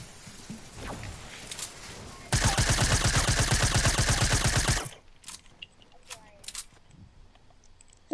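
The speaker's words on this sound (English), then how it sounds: "Who's shooting at me?" Rapid automatic gunfire in Fortnite playground mode, a dense burst of about two and a half seconds at close range, with a player talking before it and scattered game clicks and thuds afterward.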